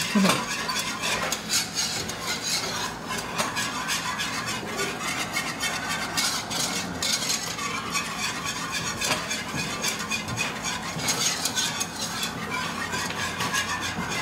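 A whisk scraping and clinking steadily against a pot of Mexican mole sauce, with continuous close stirring and metallic taps, with no talking.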